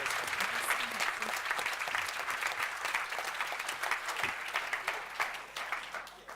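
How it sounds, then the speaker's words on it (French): An audience at an insurance-industry panel event applauds the panelists, a sustained bed of many hands clapping at moderate volume for over six seconds, thinning slightly toward the end. "et je crois qu'on peut les applaudir."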